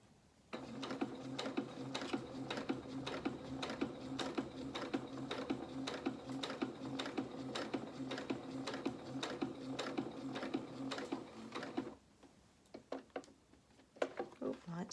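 A home sewing machine runs steadily through fabric in a fast, even stitching rattle for about eleven seconds, then stops, leaving a few quiet clicks and handling sounds.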